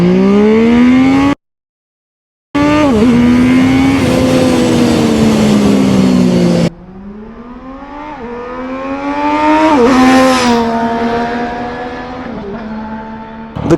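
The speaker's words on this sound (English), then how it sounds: "We tried to launch the bike a few times." A Zontes 703RR motorcycle launching and accelerating hard, its engine loud and close as it climbs through the revs with sharp gear-change dips, then a second long pull rising to a high wail and tapering off.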